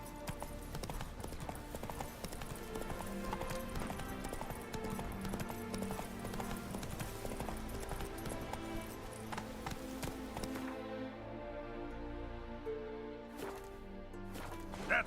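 Geralt's horse Roach gallops in The Witcher 3, rapid steady hoofbeats clip-clopping throughout over game music and ambience, with the rhythm loosening toward the end.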